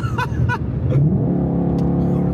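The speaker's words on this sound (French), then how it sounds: "t'accélères avec le volant à 45 degrés" A car accelerating hard with the steering wheel turned about 45 degrees: a brief, close engine note rising in pitch, loud and strained.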